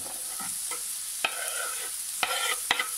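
Green onion stalks and a white onion fry in oil for a mushroom and potato tortilla, giving a soft, steady sizzle with several sharp stirring clatters against the pan.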